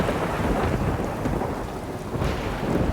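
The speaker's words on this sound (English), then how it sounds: "Time to travel and escape this storm." Stormy weather in the video game Dreamsnap: heavy steady rain pours over a low rolling thunder rumble for a few seconds, dense and continuous with no voices.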